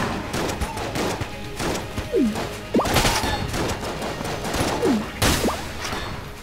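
Gunfire in Enter the Gungeon, bursts of sharp shots and impacts over several seconds, with swooping tonal whooshes and crashes mixed in, loud and busy.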